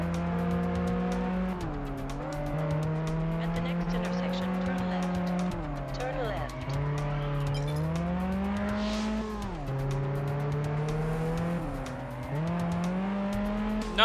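A racing car engine in the Test Drive Unlimited video game roars continuously and loudly, its pitch climbing and dropping through repeated gear shifts, with a hint of tire squeal over a rival Nismo.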